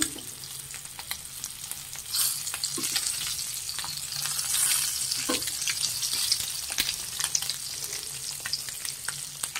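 Spiced eggs sizzle in a pan over a low flame, a steady crackling fry running throughout, with a few soft scrapes and taps of stirring rising above it and no talking.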